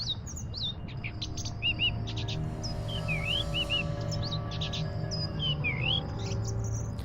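Bird chirping in the adventure video game The Book of Unwritten Tales: quick, high tweets and whistled sliding calls repeat throughout over a low, steady background drone, close and clear.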